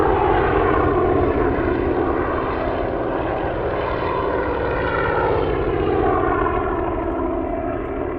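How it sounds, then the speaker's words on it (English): A propeller-driven WWII aircraft in the game WWII Online roars past in a steady, loud engine drone that swells and slowly fades, heard alone with no voices. "Meantime, we have our flyby."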